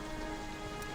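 Light drizzle patters overhead in a steady, continuous hiss of small drops, heard alone at moderate level.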